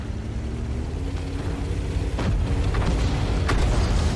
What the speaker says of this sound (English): Artillery is very insistent on trying to hit me